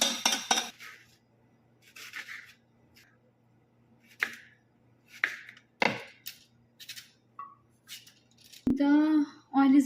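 Curry leaves and ginger garlic paste being stirred in a pan: scattered scrapes and clinks of a utensil against the pan, with short sizzling bursts and a brief voice near the end.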